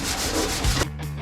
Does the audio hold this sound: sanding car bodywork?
yes